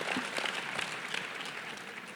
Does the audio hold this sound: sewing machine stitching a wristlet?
no